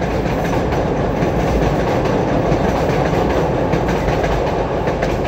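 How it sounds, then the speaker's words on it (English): A train rolls past close by outdoors, a steady loud rumble with rail clatter filling the whole stretch without pause. "Let that damn train go past."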